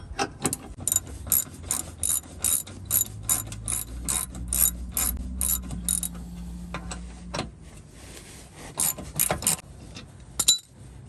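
A ratchet wrench works loose the cross member bolts under a 2016 Dodge Caravan during a starter motor replacement, clicking in rapid bursts of ratcheting strokes with short pauses between, close and crisp with faint clanks.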